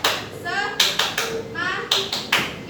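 Schoolchildren in a classroom do a clapping game, clapping sharply in short rhythmic bursts of two and three claps while chanting along, with their voices sounding between the claps.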